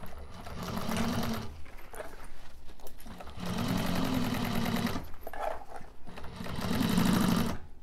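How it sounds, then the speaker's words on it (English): A sewing machine stitches a bag seam with a 1/4 inch seam allowance in three steady, close, loud bursts, with short pauses between them and no talking. "we are going to stitch that around with 1/4 inch seam allowance"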